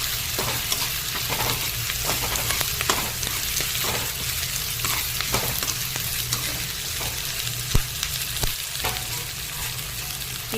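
Onions and curry leaves fry in hot oil for an eggplant curry, a steady close sizzle with intermittent stirring clicks and scrapes throughout, no voices.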